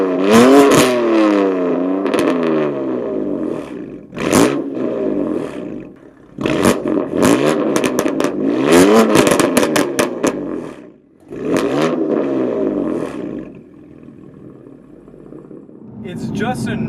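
A 2019 BMW F82 M4 CS with M Performance exhaust roars and revs in repeated bursts, rising and falling as the engine accelerates, with brief lulls between pulls.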